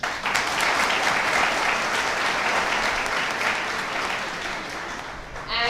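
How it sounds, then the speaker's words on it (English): A room full of students applauds their college at a pre-placement talk, a dense, steady wash of many hands clapping close by, sustained at even loudness for several seconds before tapering at the end. "I want all of you to give a big round of applause for your college."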